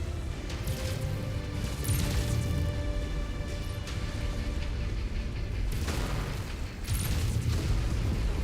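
Heavy booming explosions in MechWarrior 5: Mercenaries, several loud crashing blasts spaced over a constant low rumble of combat, with no one talking.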